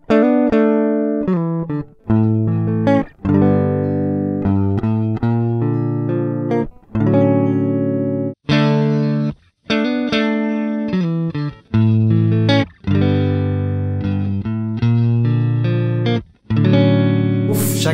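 Distorted electric guitar, a $300 instrument, playing a continuous riff with sustained, effect-laden chords and brief pauses between phrases, loud and close.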